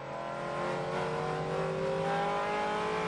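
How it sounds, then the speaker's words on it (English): A Corvette race car at full throttle at Watkins Glen, chasing a Dodge Viper, heard from onboard as a steady, loud, droning engine roar with a sustained high whine. "Riding along with Culver down the Corvette as he chases the Viper in front of him"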